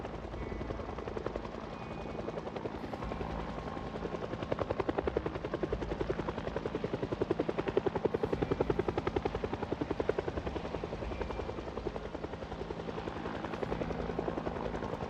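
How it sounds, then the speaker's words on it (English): A helicopter flies by during a video game in-game event, a steady rhythmic rotor chop that swells in the middle and holds throughout, with no talk. "it's an in-game event where a helicopter will fly by"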